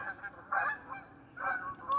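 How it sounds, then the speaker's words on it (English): A flock of about sixty geese flies past overhead, their honks rising in two loud bursts and a final one, with quieter calling in between. "the geese are going crazy"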